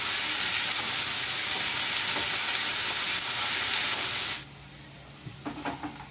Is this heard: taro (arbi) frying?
yes